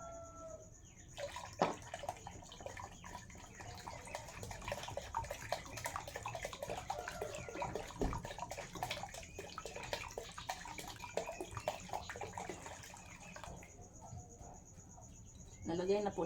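Water poured from a container into one-liter soft drink bottles while mixing a homemade herbicide with ammonium sulfate, a steady trickling gurgle lasting over ten seconds, with a faint high insect-like whine throughout.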